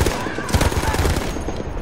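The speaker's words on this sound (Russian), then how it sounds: "меня с какой-то пушки стреляли" Rapid bursts of gunfire in the video game Battlefield 1 crackle continuously with loud, dense shots, an ongoing exchange rather than a single burst.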